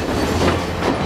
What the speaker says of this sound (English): This famous train journey from Ella to KANDY is often described as the world's most scenic